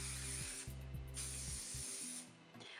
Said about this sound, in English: I'm gonna spray my Paul Mitchell Super Clean Extra Hairspray onto it, just onto the ends